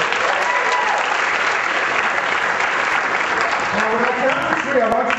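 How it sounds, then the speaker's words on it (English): Loud, sustained audience applause from a large crowd, dense and steady throughout with faint voices mixed in near the end. "Give them a round of applause."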